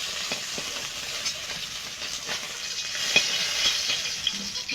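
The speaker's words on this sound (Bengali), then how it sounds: "বাকি মাছগুলো ভেজে নেব।" Tilapia fish frying in hot oil in a kadai, with a steady close sizzle and crackle and occasional scrapes and knocks as the pieces are stirred and turned.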